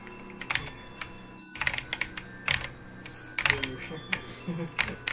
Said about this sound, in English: I have a freaking Razer keyboard and it's loud